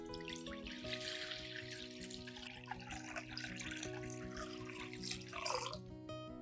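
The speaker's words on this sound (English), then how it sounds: "add about 2 liters of clean water at room temperature" Clean room-temperature water poured into a glass pot: a soft, continuous trickling splash with light dripping, quiet and close, alongside a faint steady hum.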